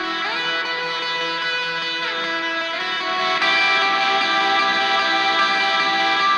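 A sustained, distorted electric guitar lead swells in gradually, with bending notes and rich harmonics, then grows louder and fuller partway through.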